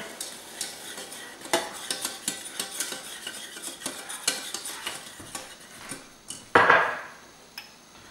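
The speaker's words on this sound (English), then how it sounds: "we're going to go ahead and add in our heavy cream" Heavy cream poured into a flour roux in a pan, heard as repeated whisk and utensil clinks against the pan over a light sizzle, with a louder bubbling burst near the end and no talking.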